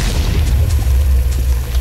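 A TNT block detonates in Minecraft: a loud, sustained low boom that rumbles steadily for about two seconds without fading.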